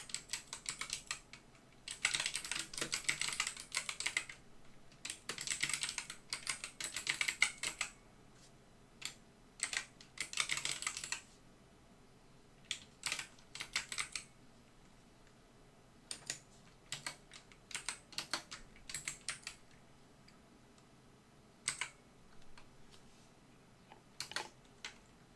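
Bursts of typing on a computer keyboard entering a chart title, quick clustered key clicks separated by short pauses, close and moderately quiet throughout.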